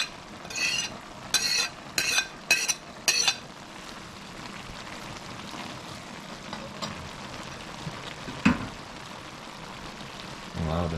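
Tomatoes, onions, pepper, celery and scallions frying in a pot, with a quick series of stirring scrapes and clatters at the start, then a steady soft sizzle and a single sharp clink near the end.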